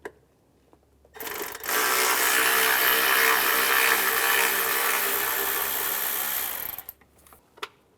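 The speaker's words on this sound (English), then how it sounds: "Use a T25 socket. Remove this bolt." A power ratchet or driver with a T25 socket spins out a bracket bolt near the intake manifold of a 2004-2010 BMW X3, a loud continuous buzzing whir lasting about five seconds, followed by a few faint clicks.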